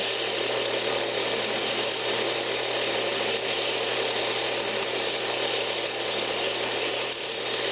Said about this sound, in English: Making a scraping cut up the wall.